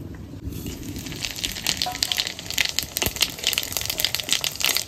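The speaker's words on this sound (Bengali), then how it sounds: "ফোড়নে দেবো শুকনো লঙ্কা আর জিরে।" Dried red chillies and cumin seeds sizzling in hot oil in a kadai, a steady crackling fry with sharp pops and spits throughout, close and fairly loud, with no voices.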